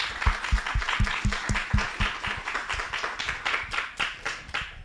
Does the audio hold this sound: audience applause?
yes